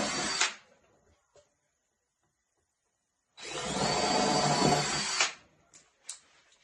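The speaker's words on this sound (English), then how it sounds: "Gonna go ahead and drill my holes now that I've figured out where I want to place them." Cordless power drill boring holes in a piece of wooden furniture being refinished: two bursts of high motor whine, a brief one then a longer, steady run of about two seconds, close up, with quiet gaps between.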